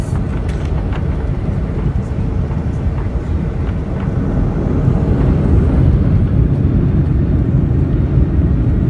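Ryanair Boeing 737-8AS engines spool to full takeoff power leaving Skavsta Airport, a loud steady cabin roar that swells slightly midway, with no talk over it.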